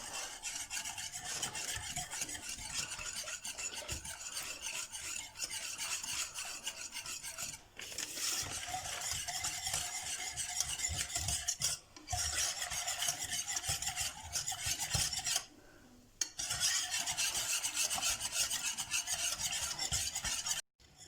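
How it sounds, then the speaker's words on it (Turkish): A spoon rasps steadily around a pot of cocoa pudding, a continuous close scraping stir with a few short pauses, no voices. "Kakaolu puding. iyice bundan karıştıralım."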